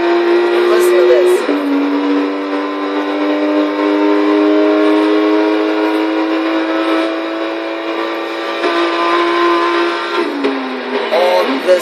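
A 2016 BMW M4 GTS engine in Forza Horizon 3 revs loudly and holds a strained, rising tone, with gear shifts briefly dropping the pitch near the start and end.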